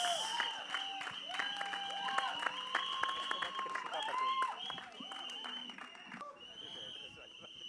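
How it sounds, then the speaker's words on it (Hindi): A crowd at a film trailer launch event applauds and cheers, a broad wash of clapping running beneath loud voices and bright tonal sounds that dominate most of the stretch. "तालियां बजा लो, हल्ला ही मचा लो"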